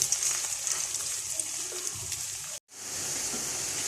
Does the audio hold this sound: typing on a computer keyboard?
no